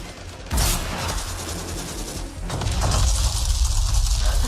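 Gunfire in Anthem: dense, continuous shooting and mechanical clatter blend into a loud combat wash, with a sharp burst near the start and another surge partway through.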